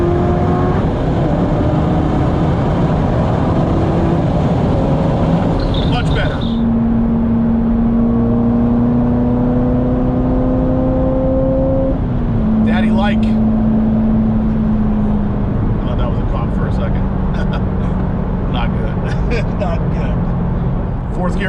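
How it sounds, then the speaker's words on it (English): A C7 Corvette ZR1's engine pulls hard in fourth gear, a loud rising roar that climbs in pitch, shifts and climbs again from inside the car, with talk over it. "Fourth gear pull."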